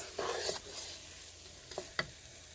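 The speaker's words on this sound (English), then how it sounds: "So you're just going to saute this for about 3 minutes" Aromatics sauté over medium-high heat in a pan for buttered fried cassava, a faint sizzle broken by brief scraping stirs and two quick utensil knocks near the end, with no voices.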